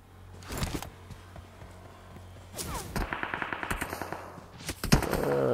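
Gunfire in PUBG Mobile from an enemy on a hilltop: a few sharp shots, then a rapid machine-gun burst of evenly spaced cracks, followed by more loud reports, with echo trailing each.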